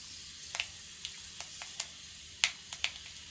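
Fenugreek seeds spluttering in hot coconut oil for Kerala varutharacha sambar: scattered sharp little pops and crackles over a faint hiss, fairly quiet.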